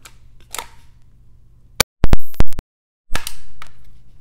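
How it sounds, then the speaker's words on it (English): Several sharp air rifle shots fired while zeroing for hunter field target, each a loud close crack, with brief mechanical handling noises between them. "So we're going to fire a couple of shots here."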